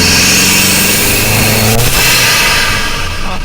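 An Audi S3 with a loud exhaust revs hard while driving, a steady close-up engine roar that climbs and holds throughout with no talking.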